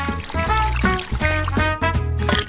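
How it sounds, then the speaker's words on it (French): Milk pours into flour in a kitchen mixing bowl, a close continuous liquid stream with gurgling pulses under a pitched, tonal background. "Maintenant, je vais verser le lait."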